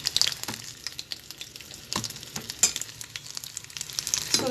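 Chicken lumpia spring rolls frying in hot oil over lowered heat, a steady crackling sizzle with scattered sharper pops, close and alone with no voices.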